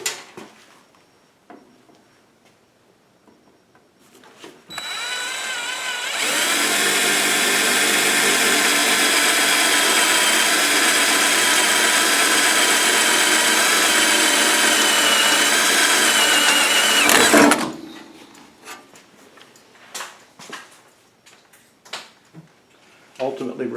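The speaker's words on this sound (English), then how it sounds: "Ultimately, we're going to drill the hole out big enough for the fuel fitting to go through it." A power drill boring a hole through a generator mount panel for a Powerhorse 27,000 extended run time fuel kit fitting, a loud steady whine running about twelve seconds alone before stopping abruptly, with talk around it.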